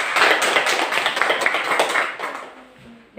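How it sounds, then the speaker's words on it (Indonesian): A class audience claps for a top-scoring student during a teaching exam session, a lively burst of close hand claps that thins and fades over a few seconds. "Tepuk tangan dulu untuk Febrin Coleta Valona."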